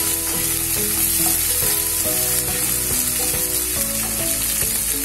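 Turmeric and green chillies fry in hot oil for a red amaranth stir-fry, giving a loud, steady sizzle with occasional stirring scrapes, no talk.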